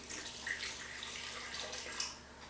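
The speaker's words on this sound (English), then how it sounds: "So we'll pour about some water in there." Water is poured into a blender holding chopped carrots for a whole food smoothie, making a steady close splashing gush for a couple of seconds with no talking.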